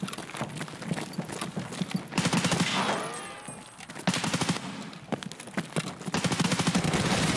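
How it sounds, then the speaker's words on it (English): Gunfire from a player's weapon in the shooter game Escape from Tarkov: sharp, loud shots in rapid bursts and scattered single cracks, with a brief lull midway before the firing resumes. "I'm so sorry. I shot you."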